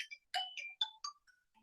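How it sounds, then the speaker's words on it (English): A phone ringtone for an incoming call plays during a maths class: a short run of bright electronic beeps and chimes stepping down in pitch, clear and fairly near, with no talk over it. "Sorry, the phone call came there."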